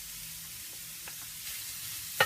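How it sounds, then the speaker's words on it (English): Pork cooking in a pan with onions and garlic gives a quiet, even sizzle with a couple of soft stirring taps and a sharper clack at the very end, with no voices. "I'm just cooking up the pork with the"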